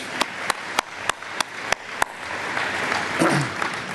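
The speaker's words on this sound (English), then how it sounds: "I'd like to give that group one more round of applause" At an agricultural alumni fish fry, a few sharp, evenly spaced claps open into broader applause from the audience, which swells and continues with some faint voices mixed in.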